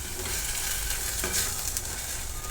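Homemade masala for Maharashtrian egg curry roasts in oil over lowered heat, a dense, continuous close sizzle with soft stirring scrapes and no voice.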